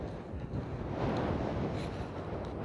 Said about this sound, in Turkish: Şimdi ileri derecede sesimi kendim bile duyamayacağım kadar rüzgar var arkadaşlar